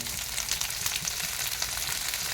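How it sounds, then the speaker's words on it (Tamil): Sliced capsicum and onion sauté in a hot pan, giving a steady, loud, dense sizzle with crackling spatters throughout and no talking. "கேப்சிகம் வந்து ஒரு 2 நிமிஷம் நல்லா வதக்கினா போதும், நல்லா வெந்துடும்."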